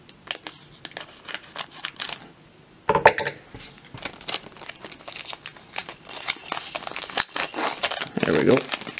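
Crinkly plastic wrapping of a Dragon Ball Z trading card pack crackles and rustles, with a few sharp snips of scissors cutting through, close up and intermittent.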